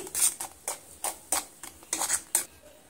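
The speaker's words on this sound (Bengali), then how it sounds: "কাঁচা জিরাটা একটু নেড়েচেড়ে ভেজে নিচ্ছি।" A teaspoon of raw cumin seeds is stirred in hot oil in a pan, giving a run of light, uneven scraping and clinking strokes, about ten in quick succession, close and fairly soft over a faint sizzle.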